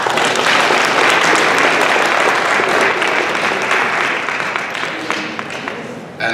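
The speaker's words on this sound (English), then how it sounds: "Please give another round of applause." Dense, loud audience applause after a panel discussion at a community event, steady for several seconds before thinning slightly toward the end.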